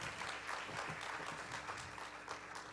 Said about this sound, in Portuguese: Vamos receber o pastor Leandro com uma salva de palmas ao Senhor Jesus.